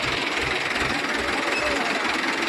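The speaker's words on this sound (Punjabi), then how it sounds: "ਮੁੰਡੇ ਨੇ ਟਰਾਲੀ ਟਰੈਕਟਰ ਸਿੱਧਾ ਕਰ ਲਿਆ ਤੇ ਹੁਣ ਬਿਲਕੁਲ ਸਿੱਧਾ ਸ਼ੈੱਡ ਦੇ ਅੰਦਰ ਲਾਏਗਾ" A tractor engine runs steadily with a dense, rattling drone while backing a trolley into a shed, the noise continuous and fairly close, with no pauses.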